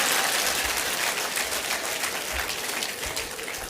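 An audience at a Jamaican public event applauds steadily, a dense, even clapping that holds at moderate loudness for the whole stretch without speech.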